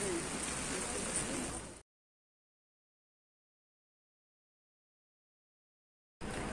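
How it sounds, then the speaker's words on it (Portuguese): Rain falling steadily in London, a dense, even hiss of drops outdoors for under two seconds before the sound cuts to silence, then returns briefly at the end. "Cheguei aqui um pouquinho mais perto pra vocês verem como tá chovendo."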